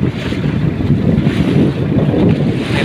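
Steady low engine drone of large boats passing at the mouth of the Samut Prakan bay, mixed with wind buffeting and lapping water, continuous and fairly loud throughout.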